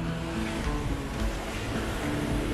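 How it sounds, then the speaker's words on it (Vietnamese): High ocean waves crash and roar without a break at Mũi Nghinh Phong cape in Vũng Tàu. The surf is loud and close, with a dense low rumble and no voices. "biển cũng rất là sạch nữa, và sóng thì rất là cao"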